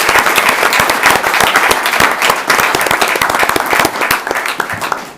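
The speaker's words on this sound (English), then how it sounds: "please give everybody a round of applause as a part of this" A crowd at a city council meeting in Moscow claps steadily in sustained, dense applause that continues evenly across the whole stretch, with no talking over it.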